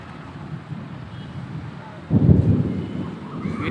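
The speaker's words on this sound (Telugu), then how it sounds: "ఉరుములే ఉరుములు" A low rumble of thunder rolls in partway through during an evening storm with gathering clouds, swelling over steady wind noise.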